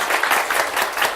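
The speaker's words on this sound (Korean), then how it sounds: "크게 박수 한번 부탁드립니다" Applause from an audience at a Korean teacher-exam results seminar, a dense continuous patter of many hands clapping for just over a second, fairly loud and close.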